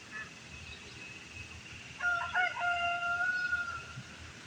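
Several chickens and ducks call out together, a rooster-like crow and squawks rising over a steady outdoor hum, with no talking.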